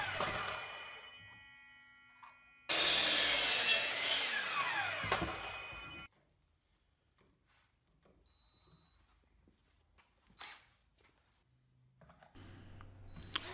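Pocket screws driven with a power drill into a plywood frame for a miter station, a loud whirring burst of several seconds followed by quieter shop clatter and scattered taps.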